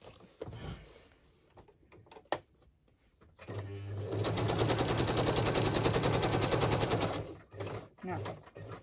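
A sewing machine stitching fabric, a steady fast mechanical whirr running for several seconds at close range, preceded and followed by quiet handling noises and brief pauses.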